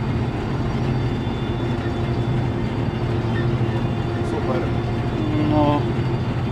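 Bizon Rekord combine harvester with a John Deere cab pulling away smoothly on its hydrostatic drive, a steady low engine drone running throughout with faint higher squeaks near the end.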